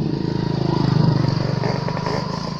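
A motorcycle passes close by with a loud, steady engine drone that stays strong for the whole stretch, with faint voices beneath it.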